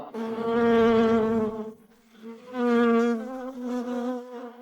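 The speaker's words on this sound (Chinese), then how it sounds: "你又在训练蜜蜂吗？" Bees buzz loudly and close by in two long droning swells with a short dip between them, with no speech over the sound.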